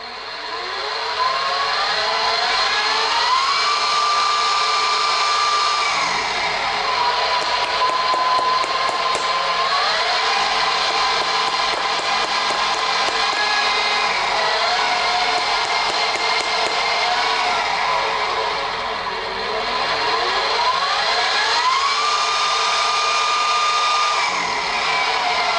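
A Powermatic machine powered on and running around 1700 RPM gives a steady loud motor whine with tones that ramp up and down, sustained throughout with no talking.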